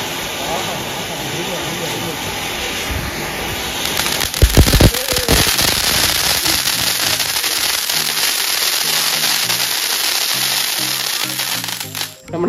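Fancy Sivakasi firecrackers burst with dense crackling and hissing, a sharp loud blast cluster near the middle followed by continuous sputtering; people talk over the noise.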